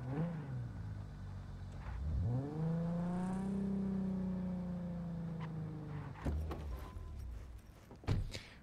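A car driven through Night City in Cyberpunk 2077 gives a smooth engine note that rises and holds as it accelerates, followed by a few sharper mechanical knocks and thumps near the end.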